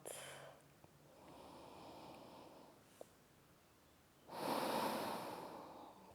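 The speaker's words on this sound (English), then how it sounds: "Deep breath in, and deep breath out." Slow, deep breaths during a whole-body yoga stretch, a softer drawn inhale followed later by a louder, breathy exhale close to the microphone.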